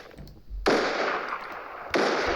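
Gunfire from a gun mod in Minecraft, two sharp blasts about a second apart, each trailing into a dense noisy burst, loud and close with no talk over it.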